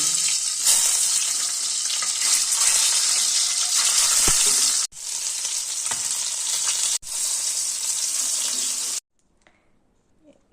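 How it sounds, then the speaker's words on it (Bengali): Duck eggs rubbed with turmeric and salt frying one by one in hot oil, a loud continuous sizzle broken by two brief pauses before cutting to near silence at the end. "এদিকে তেল গরম হয়ে গেছে, এবার একে একে ডিমগুলো দিয়ে"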